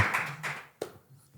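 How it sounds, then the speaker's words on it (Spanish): Studio audience clapping to welcome a guest onto a Spanish talk show, a short burst of applause fading quickly, with a sharp single clap near the end. "Un aplauso fuerte, por favor."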